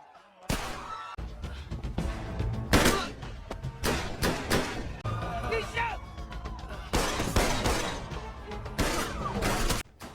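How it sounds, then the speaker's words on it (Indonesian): Gunfire and a chaotic crowd scene in a gangster film during a speech, bursts of loud sharp impacts and crashes breaking in suddenly and recurring over a dense, busy background. "tiba-tiba terdengar suara tembakan dan Michael pun tersungkur di balik kerumunan"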